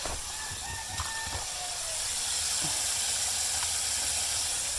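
A chicken on a farm gives a short, strained crow near the start, partly masked by a loud, steady hiss of rushing water or machinery that persists throughout.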